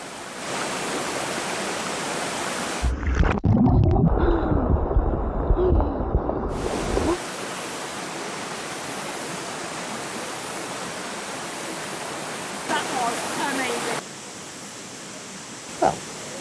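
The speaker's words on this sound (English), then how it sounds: "And headed straight to the cold mountain spring water." Steady rushing cold mountain spring water runs throughout, broad and constant, with a louder splashing burst near the start and no voices.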